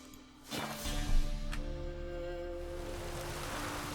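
Soft, continuous rain hiss in The Witcher 3: Wild Hunt, with a low steady hum underneath, quiet and even throughout.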